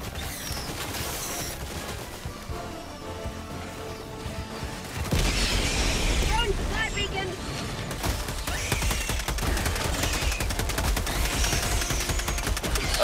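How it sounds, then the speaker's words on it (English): A video game artillery barrage rumbles on without pause as dense, layered booms and crashes that swell louder partway through, with faint voices beneath. "That barrage isn't getting up here, isn't it?"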